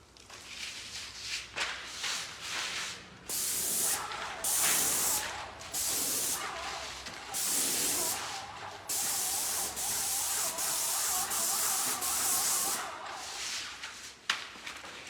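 An airless paint sprayer fitted with a Graco or Titan tip sprays cabinets in repeated loud hissing bursts of a few seconds each, broken by short pauses.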